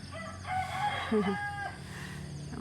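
A rooster crows in a long drawn-out call amid nearby hens clucking, loud and close.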